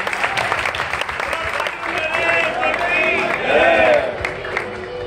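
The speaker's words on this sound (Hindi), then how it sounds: "एक बार जोरदार ताली देते हैं सुंदर भजन लिखने के लिए।" A devotional gathering's audience claps for the bhajan writer, a dense burst of applause and crowd noise rising and swelling, with voices mixed in.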